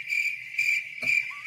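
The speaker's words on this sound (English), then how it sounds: "Oh, yes, definitely crickets." Crickets chirp in three evenly spaced pulsing bursts, close and clear against an otherwise quiet background.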